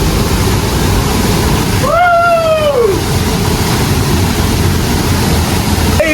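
A waterfall pours between rocks at Valli Chunai falls with a steady, loud, broadband roar throughout, and a brief rising-and-falling whistle-like tone cuts through near the middle.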